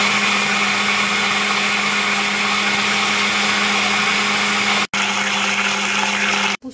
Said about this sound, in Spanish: Y a licuarse.